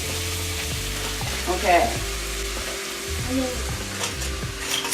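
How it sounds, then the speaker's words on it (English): Butter melting in a very hot pan and already browning, giving a steady close sizzle with some stirring scrapes, while a voice speaks briefly. "So we're just melting the butter,"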